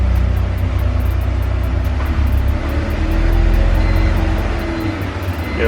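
An older car, just back from a DIY transmission gasket, filter and fluid service, idles steadily after being put in gear. A loud, close, constant engine rumble runs throughout.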